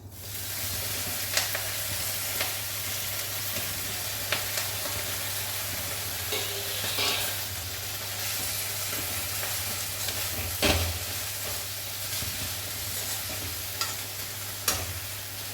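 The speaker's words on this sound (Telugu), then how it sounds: "ఇప్పుడు ఈ మెంతి కూర కూడా వేయించేసుకుందాము." Fenugreek leaves frying in a pan for a chutney, giving a steady soft sizzle with occasional scraping stir clicks and a constant low hum underneath, no talking.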